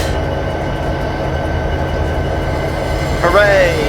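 EMD six-axle diesel locomotives race in Train Simulator, their steady engine rumble and rolling rail noise continuous under loud excited commentary, with a rising metallic squeal near the end.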